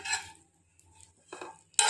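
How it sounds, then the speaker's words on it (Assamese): Dried pork is dry-fried without oil and stirred in a hot wok, giving a few brief metallic scrapes and clinks close by, separated by near-silent pauses. "এতিয়া মই মাংসখিনি কেৰাহীখনত দি দিছোঁ।"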